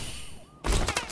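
An overkill shotgun fires in a video game: a single loud, close blast breaks suddenly after a quiet moment and rings briefly, with a second burst trailing just behind.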